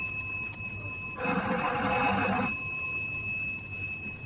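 A telephone rings in an old radio drama, a single bright electronic bell burst of about a second, moderately loud over a quiet room hum, with no voices.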